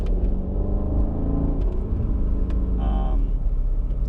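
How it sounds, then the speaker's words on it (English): Mercedes W220 S55 AMG engine running with a deep, throaty exhaust rumble, loud and close, a steady low drone with slight revving. "That exhaust is super throaty."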